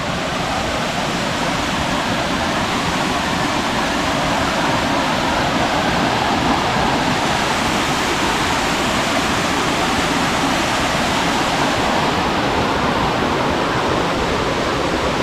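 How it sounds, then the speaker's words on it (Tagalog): Steady, loud rush of a waterfall on a short forest trekking trail near Cabuyao, Laguna, a dense broadband roar that holds constant without break for the whole stretch. "Ah, ito yung falls."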